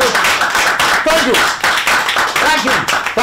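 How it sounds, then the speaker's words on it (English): An audience claps at a televised Constitution Day quiz in Ghana, the clapping fairly close and loud in uneven bursts, with a voice talking over much of it. "Thank you for the applause."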